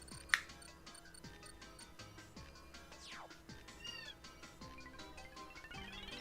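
A cartoon cat meows repeatedly at a secret door in Super Paper Mario, several short rising mews over a quiet looping game melody, with one sharp chime near the start.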